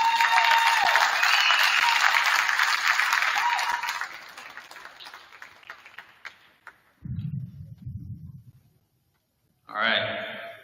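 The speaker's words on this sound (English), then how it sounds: "give a warm round of applause to Coach Jake Agnich" A crowd at a state wrestling celebration applauds the head coach with loud, dense clapping that fades out after a few seconds. Low grunting or throat noises follow, then a short burst of noise.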